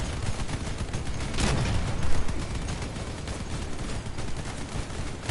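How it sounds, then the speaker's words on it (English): Machine gun fire from a vehicle in the combat game Crossout, a dense, sustained rattle of rapid shots blending into a loud continuous roar, with a brief surge around the middle and no talking. "Now I'm firing my machine gun."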